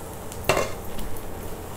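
A cooking pot lid slowly lifted during stovetop cooking of a Navarathri dish, giving one brief metallic clink followed by soft, faint clatter and light sizzle, with no talking.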